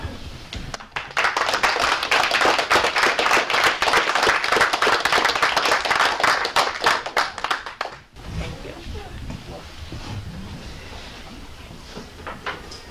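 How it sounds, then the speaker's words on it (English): An indoor audience claps for veterans at an evening program, dense sustained applause for about eight seconds that then stops and gives way to quieter room noise. "I'd also like any veterans to stand so that we can give you a little applause and thank you."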